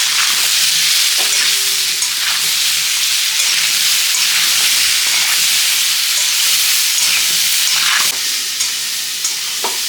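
Spices frying in oil with turmeric and salt in a pan, a loud, steady, close hiss and sizzle throughout, with occasional stirring scrapes breaking through.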